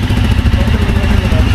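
Motorcycles idle and rumble loudly up close before setting off on a mountain ride toward Gurudongmar Lake, a steady low engine throb with a slight clatter.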